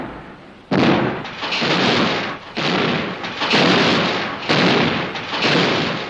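A naval gun turret firing shells in a series of heavy, booming blasts, about six loud reports with long rumbling decays that overlap one another.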